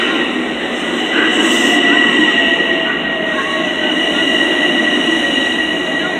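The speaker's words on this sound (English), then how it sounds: "Now arriving on track 2, platform B, is the 3:30 p.m. train to Huntington." A commuter train pulls into a station platform on a line to Huntington, a loud steady rumble with a sustained wheel screech and high tonal whine, close by and continuous.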